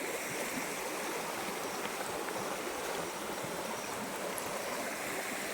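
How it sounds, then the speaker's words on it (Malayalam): A river flowing in steady rushing wash, broad and continuous throughout with no voices or other sounds standing out. "അവിടെ നിന്നൊക്കെ നദി ഒഴുകി വരുന്നത് കേട്ടോ."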